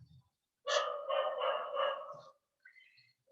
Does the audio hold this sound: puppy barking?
yes